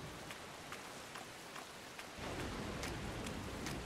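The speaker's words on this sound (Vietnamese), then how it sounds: "Sao mưa to thế?" Heavy rain pours steadily in a dense, close hiss, with faint patters and drops striking surfaces, growing slightly louder and fuller partway through, with no voices.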